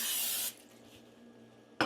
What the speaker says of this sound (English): cooking spray of some sort